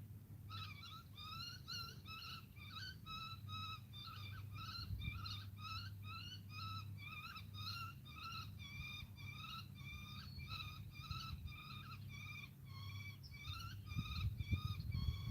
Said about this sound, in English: That's some kind of bird drama going on above me.